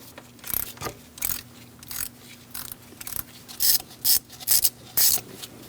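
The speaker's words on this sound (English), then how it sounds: "You're going to use a 10mm socket, and we're going to take out this bolt for the coil." A ratchet with a 10mm socket works on an ignition coil bolt on a 2006-2011 Chevrolet HHR 2.4L four-cylinder, giving short close bursts of rasping clicks separated by brief pauses.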